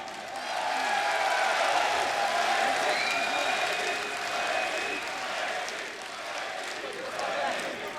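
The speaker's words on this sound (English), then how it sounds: "Give that man a round of applause" Sustained applause and crowd noise at a CS:GO Major quarterfinal for several seconds, dense clapping with a loud caster's voice carrying over it.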